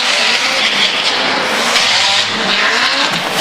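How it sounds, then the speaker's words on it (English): Drift cars at a Formula Drift event in Atlanta, among them a big Ferrari and a small hot hatchback, roar past with tires squealing in one loud, continuous wash of engine and rubber noise. "Ryan Turk tries to stick it to the side of that big Ferrari, that hot little hatchback."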